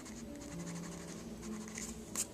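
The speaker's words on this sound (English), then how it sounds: "erase that little mark" A pencil eraser rubs out a small mark on paper, giving a soft, close, scratchy friction that runs steadily for a couple of seconds with no talk.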